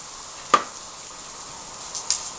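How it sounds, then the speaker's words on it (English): A knife cutting mushrooms into quarters on a cutting board, two sharp, separate chops over a faint background hiss in a quiet kitchen, with no talking. "grab one of these fungus things and we're going to cut it into quarters"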